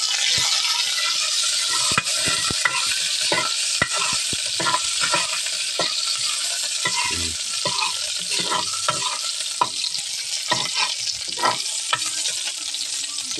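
Spices sizzle and crackle steadily in hot oil, a close, continuous frying hiss with occasional stirring clinks and scrapes throughout.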